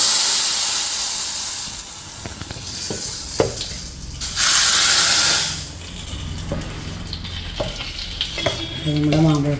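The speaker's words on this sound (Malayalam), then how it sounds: "കടുക് വറുത്ത്" Mustard seeds fry in hot coconut oil for a tempering for mango and banana pulissery. A close, crackling sizzle comes with stirring scrapes, and a loud hissing burst rises midway before the sizzling settles back.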